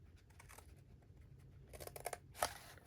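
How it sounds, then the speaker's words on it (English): Scissors snipping into the corners of a paper gift box for a handmade mini album, a few quiet cuts building to a sharper, louder snip near the end. "So now I'm going to take my scissors and I'm going to cut in on my corners."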